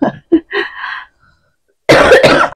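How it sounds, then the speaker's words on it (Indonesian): Several close coughs: two short rough bursts, a longer hacking one, a pause, then a harsh double cough. "aku itu masih ada batuk-batuknya"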